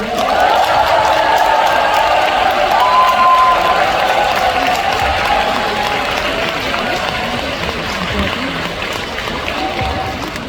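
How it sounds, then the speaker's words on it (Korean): A large concert-hall audience at a trot encore concert applauds and cheers in a loud, sustained roar, with whistles and shouting over dense clapping and voices mingled in. "밴드분들, 안무팀분들, 그리고 모든 파트의 안무 감독님들께 큰 박수 부탁드립니다."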